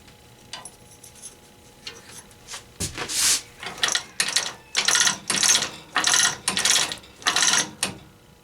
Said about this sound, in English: Need to back this screw out some because this is rubbing against the frame more